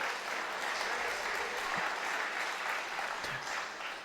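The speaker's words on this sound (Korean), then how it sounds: "지금 이 멋진 득점에 대한 박수는 김행직 선수의 득점에 대한 박수였고요" An audience claps steadily at a three-cushion billiards world championship match. The applause is a dense, even patter that fades slightly at the end, with a few faint voices beneath it.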